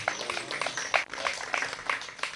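A church congregation claps for God during a Spanish-language service, a moderate steady patter of many hands with brief swells, heard alone without talk.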